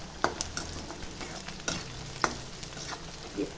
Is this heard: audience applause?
no